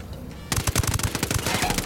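Automatic gunfire in the video game Ghost Recon Wildlands erupts suddenly after a quiet moment, a fast, loud rhythmic burst of rounds that keeps going to the end.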